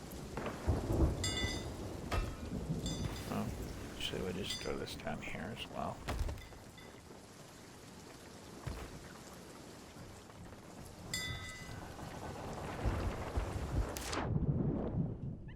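A thunderstorm at sea in a pirate video game, with rolling thunder and heavy rain hissing steadily and a few louder rumbling surges, while a player talks over it.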